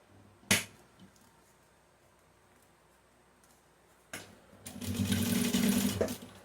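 A sewing machine stitching a simple zipper pouch: two short taps early, then a quick, close run of rapid mechanical stitching near the end, otherwise quiet.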